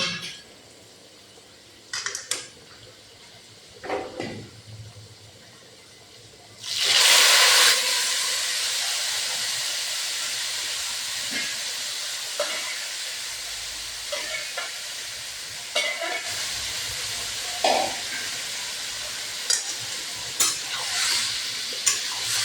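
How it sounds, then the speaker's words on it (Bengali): Marinated chicken hits a pan of fried potatoes with a sudden loud burst of sizzling that settles into a steady, close frying hiss, broken by occasional scrapes and clinks of a stirring utensil against the pot. "এখন ম্যারিনেট করা চিকেন দিয়ে দিব।"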